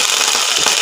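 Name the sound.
water poured into frying onions spluttering in pan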